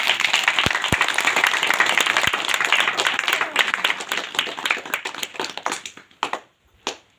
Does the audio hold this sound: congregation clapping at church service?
yes